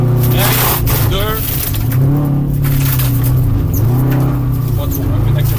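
A rally car on a racing course accelerates steadily through the gears, its engine drone rising and shifting in pitch, with a person talking over it throughout.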